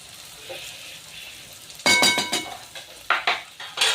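A spoon stirring egg masala with turmeric and salt in a metal pan, starting with soft scraping and then turning into several loud, ringing clanks against the pan with no talk over it.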